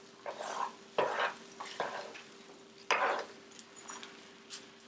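A spatula stirs scrambled eggs in a skillet, with intermittent scraping strokes and light metallic clinks over a faint sizzle, close and moderately quiet.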